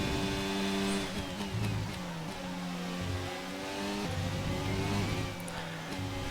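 A Formula 1 car engine in the F1 22 racing game, loud high revving that repeatedly climbs in pitch and drops at gear changes, continuous and close.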